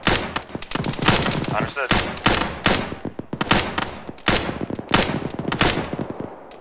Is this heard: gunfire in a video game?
yes